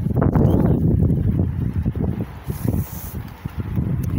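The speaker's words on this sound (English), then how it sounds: "It's windy" Strong gusty wind buffeting close to the microphone, a loud low rumble that surges and eases over a few seconds, with no talking.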